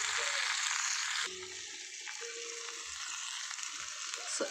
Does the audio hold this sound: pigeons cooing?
no